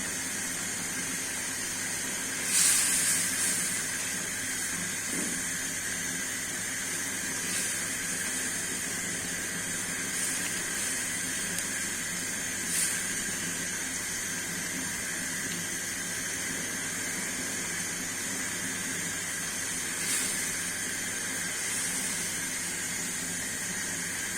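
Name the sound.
fried tengra fish added to pan with mustard oil, sizzling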